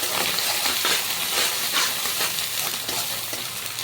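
Cauliflower egg curry stirred in a pan, a steady close sizzle and hiss with soft repeated scraping and clinks of the spoon, without any talking.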